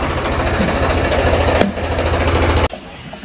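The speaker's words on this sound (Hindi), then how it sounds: "स्वराज जैसा ट्रैक्टर बंद कर रहा" Swaraj tractor diesel engine running with a loud, steady chugging rumble, then abruptly cut off, leaving a quieter background.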